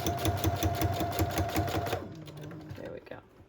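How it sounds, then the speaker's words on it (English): A sewing machine runs a quick back stitch while making transparent pressed flower tags, a dense rapid rhythmic clatter for about two seconds that then stops, leaving faint handling noises and a brief voice. "I'm just going to do a back stitch."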